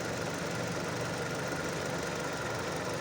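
A Hyundai i40 engine idles after a major overhaul with a steady, even mechanical hum and faint vibration, running alone and quietly with no talking.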